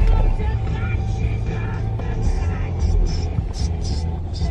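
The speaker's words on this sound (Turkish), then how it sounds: "Her zaman trafik." Road traffic in Etiler, heading toward the Sakıp Sabancı Museum: a steady, close engine rumble and road noise fill the whole stretch, with faint voices and brief higher passing swishes on top.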